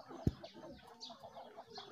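Chickens cluck softly in the background, with a sharp knock or thump near the start and scattered bird sounds throughout.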